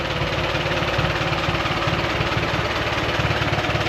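A 1959 Allis Chalmers D17 tractor engine idles up close, a steady loud rhythmic chugging with knocking pulses, no one speaking.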